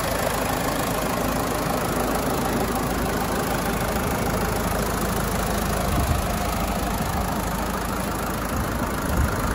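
Nearby Land Rover Freelander 2 TD4 diesel engine idling steadily for several seconds with air conditioning running, a constant low rumble with faint clattering, no voices over it.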